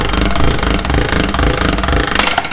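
Loud, steady mechanical rattling and thumping from a hand-cranked pasta roller rolling fresh pasta dough, continuous and close, with no talking.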